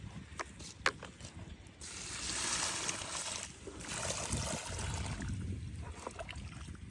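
Irrigation water flows along a wet field channel to young lemon plants, a soft continuous rushing trickle at moderate distance, with a few sharp knocks near the start.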